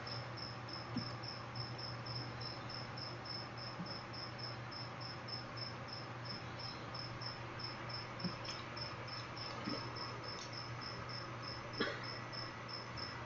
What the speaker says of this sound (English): I hope that cricket's not in the video being really annoying in the background.